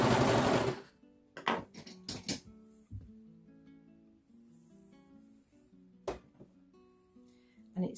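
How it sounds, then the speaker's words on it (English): An overlocker serging sheer chiffon fabric whirs in a short, loud burst, then stops; a few brief mechanical clicks and later short stitching bursts follow, with quiet tonal sounds in between. "it's so important when you overlock chiffon that you don't pull or push it through the machine"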